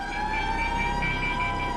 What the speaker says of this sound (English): air raid sirens across England signaled the approach of war